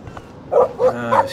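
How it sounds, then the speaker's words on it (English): Dog barking in the video game Life Is Strange: a few loud, close barks and yips in quick succession, rising over faint background game sound. "No barking."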